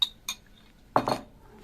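Beef heart pieces being mixed with marinade for shashlik in a metal pot, a few sharp clinks and clatters of utensil against the vessel, close, brief and scattered.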